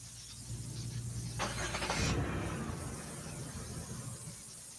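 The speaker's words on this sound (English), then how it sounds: "You hear that sound of that car?" A police cruiser with a mechanical fault runs with a steady engine drone, then swells into a harsher, squealing, grinding burst partway through before settling back to a rough idle, heard close and without talk.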